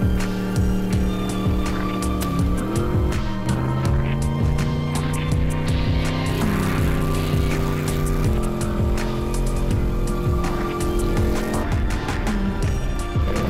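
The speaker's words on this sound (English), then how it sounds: "Who thought burning rubber would be such a spectator sport?" A car does a burnout in front of watching spectators: a loud, sustained engine roar with shifting revs and continuous high tire squeal, dense and unbroken for the whole stretch.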